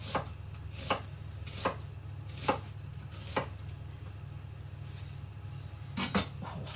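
Knife chopping onions on a board for a beef and onion carbonnade stew, a steady series of crisp strikes roughly every three-quarters of a second over a low hum, ending in a quicker pair.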